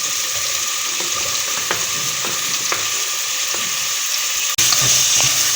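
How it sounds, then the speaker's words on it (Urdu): Carrots and potatoes sautéing in a pan for macaroni, a loud continuous sizzle close up with scattered taps of stirring and a sudden jump in intensity near the end, no voices. "تھوڑی سی دیر ہم لوگ اس کو بھونیں گے"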